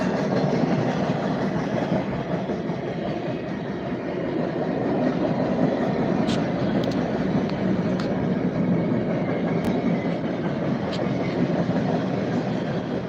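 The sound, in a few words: freight train passing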